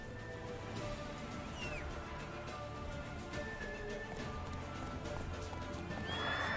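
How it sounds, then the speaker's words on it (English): Horse sounds from The Witcher 3 video game, with whinnying and clip-clop hoofbeats over steady game music and ambience, ending in a rising swell. "do I have to ride my horse?"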